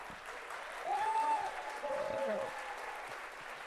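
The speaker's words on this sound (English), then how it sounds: "big round of applause" A small crowd at a live event claps in a soft, continuous patter while a voice speaks briefly over the applause.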